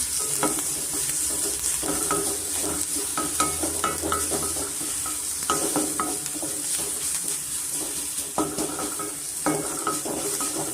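Ginger garlic paste frying in a hot pan, a continuous loud sizzle with repeated scraping and clinks of a spatula against the pan, no talk.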